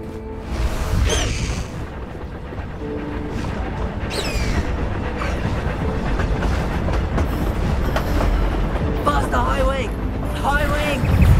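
Hogwarts Express steam train running in the video game Hogwarts Legacy, a steady rumbling, clattering rail noise with intermittent whistle-like tones and game sounds throughout.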